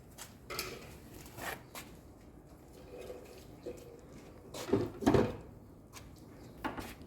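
A plastic detergent drawer is slid and pulled out of a Daewoo washing machine, producing a few scattered knocks, scrapes and clunks, close and fairly quiet, with a louder cluster of rattling near the end.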